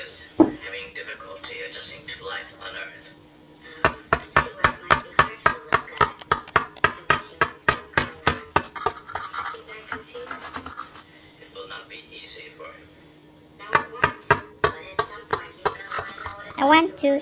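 A knife slicing through a baked lasagna, with rapid rhythmic bursts of cutting strokes against the pan, close and fairly clear, interrupted by pauses and occasional voices in between.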